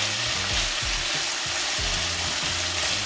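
Seasoning and saltfish sizzle loudly in a stir-fry pan for Jamaican ackee and saltfish, a steady broad hiss with low scraping and stirring knocks recurring throughout, close and alone.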